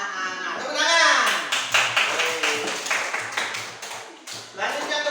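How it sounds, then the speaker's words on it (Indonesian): In a classroom, a group of children clap their hands together in a quick, rhythmic burst of distinct claps, close and clear, after a teacher's voice rises briefly at the start. "Tepuk tangan"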